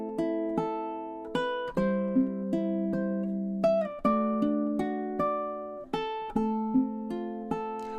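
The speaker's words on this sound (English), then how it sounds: "What that is it's adding filler notes based on whatever chords are being played" A ukulele is fingerpicked with filler notes over changing chords, making a steady stream of clear plucked notes across several chord shapes, played close with no talk.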